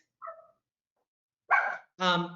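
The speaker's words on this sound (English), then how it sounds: "She's barking." A dog barks at close range during an online meeting, with a short soft yip followed after a pause by two louder, sharp barks in quick succession.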